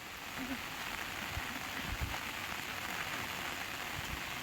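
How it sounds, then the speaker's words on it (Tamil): Rain falls steadily on a banana garden, a soft, even patter with scattered drops that continues alone for the whole stretch. "எவ்வளோ மழை பெஞ்சிட்ருக்கு பாருங்க மக்களே"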